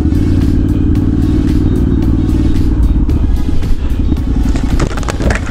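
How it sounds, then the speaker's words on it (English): A Ducati motorcycle engine rumbles loudly and steadily close by on a street at Halloween, with a brief rev and clatter near the end. "Ooh, it's a lovely Ducati."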